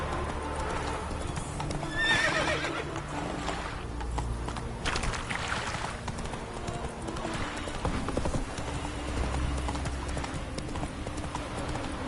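Hooves of Roach, a video-game horse, pound in a quick steady gallop rhythm throughout, with a brief whinny early on and a continuous low rumble of movement underneath.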